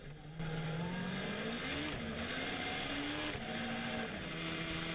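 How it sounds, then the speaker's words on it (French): Onboard a Legend Car at the start of a race at Val de Vienne, the engine drones loudly and steadily with rising and falling pitch as it accelerates and brakes for the first corner. "Le départ tout de suite en caméra embarquée aux côtés d'Evan Meunier qui va se faire surprendre au premier freinage"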